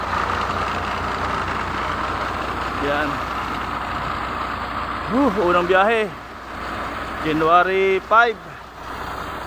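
A parked truck's engine idles with a steady low rumble throughout, close by, while someone talks over it in bursts.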